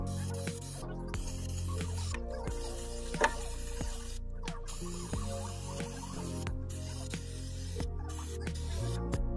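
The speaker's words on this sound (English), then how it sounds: "I'm using some upholstery glue in a spray can, which works just like contact adhesive." Short hissing bursts from an aerosol spray can of upholstery glue, repeated several times with brief pauses in between, close and steady.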